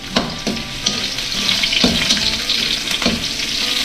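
Garlic, onion and ginger fry in hot cooking oil with a loud, constant close sizzle and a few sharp clicks of a utensil against the pan, with no voices.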